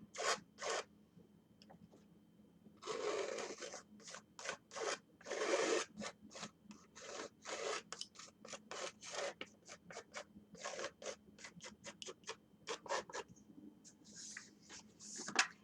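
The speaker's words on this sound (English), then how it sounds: "You're using your palette knife. Just get it on there." A palette knife scrapes and spreads paint across a stretched canvas in quick, quiet strokes, a rhythmic series of soft rasping swipes close to the ear with no talking.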